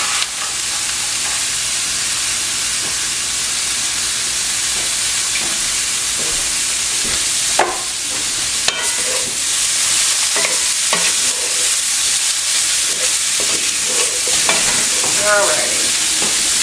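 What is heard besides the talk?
shrimp frying in a pan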